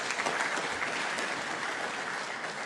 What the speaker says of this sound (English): Let's acknowledge her with a round of applause.